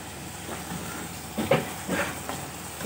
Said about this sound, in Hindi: ये देखें भून रहा है।